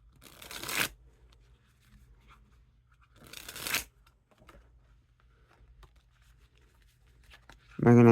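Two bursts of ED playing cards being dribbled and riffled, each a quick loud fluttering rush close by, separated by quiet handling, with a voice speaking briefly at the very end.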